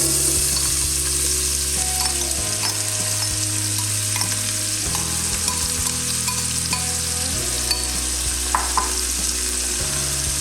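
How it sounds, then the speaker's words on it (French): Onions fry in meat juices with a constant close sizzle and crackle, while a low background hum shifts in steps and occasional stirring clicks come through. "Donc là je vais ajouter les oignons. On va en fait faire revenir tous les légumes dans le jus de la viande."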